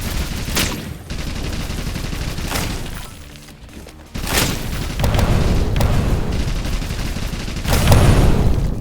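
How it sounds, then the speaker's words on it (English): Bombs blasting and guns firing in the video game Holy Shoot, loud deep booms breaking out in several bursts with rapid shots between them, growing heavier toward the end. "Set off all the bombs so I don't get blown up."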